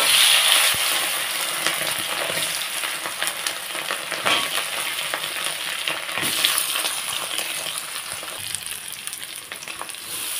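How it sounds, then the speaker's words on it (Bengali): Potatoes fry in oil with bay leaves and whole cumin, giving a steady, close sizzle with occasional scraping and clinking from stirring throughout. "এখন ভালোভাবে নাড়াচাড়া করব, একটু আলুটাকে ভেজে নেব।"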